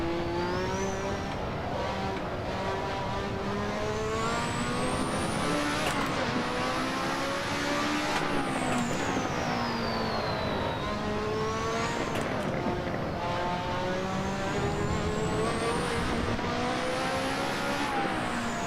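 Lotus 98T turbo race car in Assetto Corsa, its engine screaming continuously with rising and falling pitch through repeated upshifts and boost surges, loud and close with no talk.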